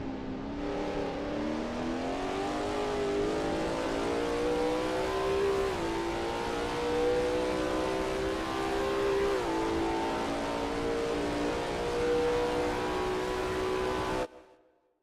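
The engine of a Lola T70 MkII Spyder race car howls steadily around Sebring in a racing game, pitch rising and dipping through gear changes and bends, loud and continuous before cutting off abruptly.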